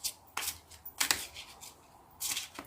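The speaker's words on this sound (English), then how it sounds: "I'm just going to shuffle these" Tarot cards are shuffled in several quick riffling bursts, close and crisp, separated by short pauses.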